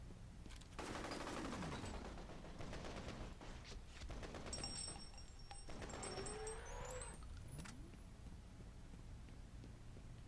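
Gunfire in F.E.A.R. Extraction Point on PC, a dense, continuous roar of rapid shots and impacts layered with pinging, whistling game effects, steady and loud throughout with no speech.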